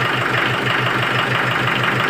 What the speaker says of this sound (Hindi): Mahindra 595 DI turbo super